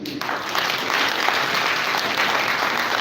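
An audience applauds at an Africa Industrialization Day event at the Yar'Adua Centre, a full, steady round of clapping that rises quickly after a brief opening and stays even to the end.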